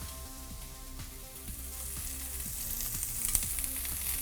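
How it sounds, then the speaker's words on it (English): Vidalia onions with thyme sauté in butter, giving a soft, steady close sizzle and crackle with faint periodic scraping, no voices. "I've got some Vidalia onions, and we're gonna saute those until they're nice and golden brown."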